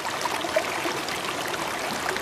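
Water rushes steadily along a very clean, clear river, a constant close babbling roar with no break and no voices over it.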